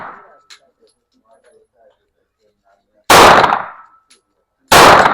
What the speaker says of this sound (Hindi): please put in the magazine and fire a few shots